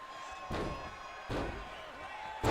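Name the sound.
wrestler repeatedly slamming opponent in the ring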